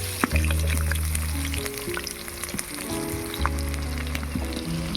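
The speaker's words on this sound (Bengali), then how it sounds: "এবারে দিয়ে দিচ্ছি পেঁয়াজ কুচি।" Chopped onion hits hot mustard oil already seasoned with a dried red chili and black cumin, giving a loud, continuous sizzle and crackle with a few scraping stirs, no voices.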